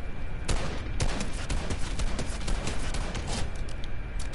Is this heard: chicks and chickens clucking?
no